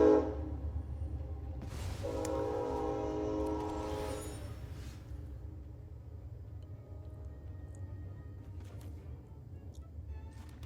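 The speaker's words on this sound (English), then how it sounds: "Hello there, train." A passing train sounds a loud, sustained horn blast of about two seconds over a continuous low rail rumble that slowly fades afterward.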